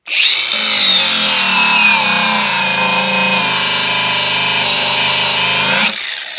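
Budget Leader angle grinder spinning up sharply and running at a loud, steady high-pitched whine for several seconds, then cutting off and winding down, no talking.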